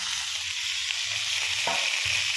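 Sweet potato and tomato curry sizzles steadily in a pan, a continuous bright frying hiss with a soft scrape of stirring near the end, close and without talk.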